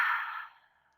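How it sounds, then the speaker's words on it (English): A single close breath exhaled through the mouth during yoga breathing, a soft airy rush that fades out over about a second, with no talking. "on our next exhale, we'll exhale through the mouth"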